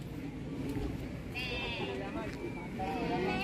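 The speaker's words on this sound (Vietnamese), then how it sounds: "Trời ơi mấy con cừu bự luôn." Sheep at a zoo in France give several wavering bleats, one long cry followed by a shorter one, against steady crowd noise and nearby talking.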